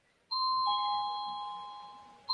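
A doorbell rings indoors during a coffee-table conversation, two clear sustained electronic chime tones that start abruptly and slowly fade, with a fresh strike beginning right at the end.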